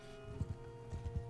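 In the video game Mount & Blade II: Bannerlord, horses ride past with clip-clop hoofbeats in two quick uneven groups, moderately close, over a steady low droning background.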